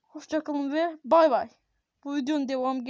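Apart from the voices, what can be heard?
No everyday noises stand out.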